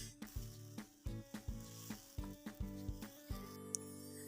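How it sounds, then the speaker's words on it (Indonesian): Seasoning with salt, sugar and powdered stock is stir-fried in a hot pan, soft steady sizzling broken by a regular series of spatula scrapes and taps, close and fairly quiet. "kemudian oseng-oseng lagi supaya bumbu tercampur merata."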